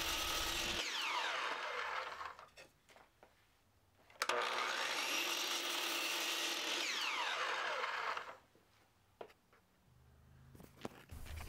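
Power tool cutting a wooden back piece for a rustic coat hook, two loud sustained whining cutting passes with rising and falling pitch, separated and followed by quieter clunks and handling noise.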